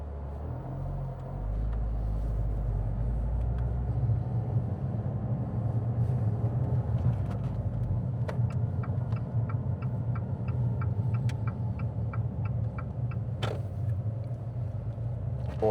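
A Fiat Abarth car driven smoothly on a driving lesson, its engine giving a steady low rumble throughout with road noise, a faint repeated ticking like an indicator clicking partway through, no talking.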